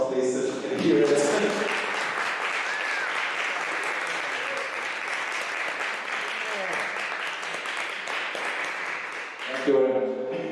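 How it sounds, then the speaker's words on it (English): A conference audience breaks into sustained, dense applause lasting about ten seconds, loud and even throughout, with a speaker's voice briefly heard at the start and end. "round of applause please so she can hear it."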